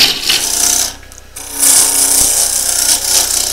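Wood lathe spinning a cherry burl at 900 RPM, giving a loud, steady whirring rumble with a brief dip and scraping tool contact.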